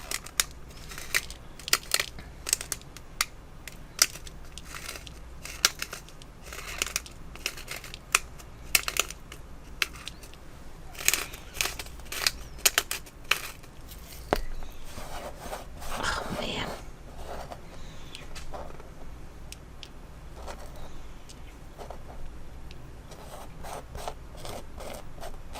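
Sea salt cracked in a hand grinder over a mat for watercolor painting, producing dense rapid crunching and clicking bursts, close and fairly loud, with a quiet voice talking softly between stretches of grinding.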